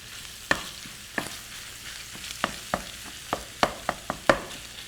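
Sausage meat with tomatoes browning in a pan for a summer bolognese: a soft, continuous sizzle broken by distinct scraping stirs at an irregular pace, close and fairly quiet.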